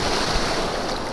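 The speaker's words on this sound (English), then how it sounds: "Look out, there's some waves coming." Close, rushing ocean waves at Waimanalo Beach, Hawaii, wash through a steady roar with some wind buffeting, no voices present.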